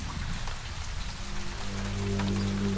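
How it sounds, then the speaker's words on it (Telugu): Steady, dense rain pours down outside a house, a constant close hiss that fills the whole stretch with no voices over it. "వాన పడుతుంది కదా."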